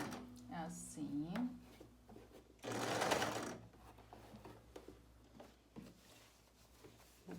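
A sewing machine stitches a fabric kitchen piece in short bursts, including one louder rapid run in the middle, with a voice talking nearby and light handling clatter.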